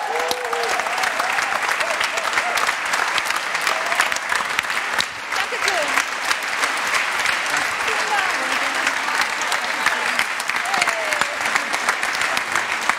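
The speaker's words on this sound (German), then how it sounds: "Applaus." An audience at the re:publica 2018 closing ceremony applauds loudly and continuously on stage, a dense, sustained clapping that runs the whole time while a voice speaks faintly underneath.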